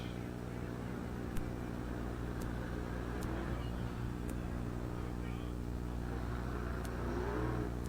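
Late model race cars circle Lernerville Speedway in Sarver, Pennsylvania, a distant, steady engine drone from the field under a faint, muffled track announcer.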